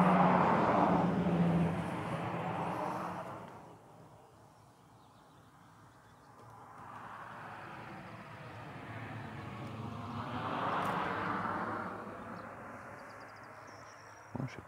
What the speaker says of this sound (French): Voiture.